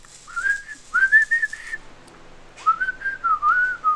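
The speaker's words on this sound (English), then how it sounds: "I'm not that great at whistling yet" A person whistles two short, wavering melodic phrases with a pause between them, clear and close with a quiet background.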